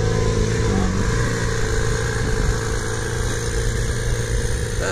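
A Ferrari LaFerrari engine in Boston rumbles steadily and loudly at close range, a continuous mid-pitched roar with slight surges that could be a rev, with no talk over it.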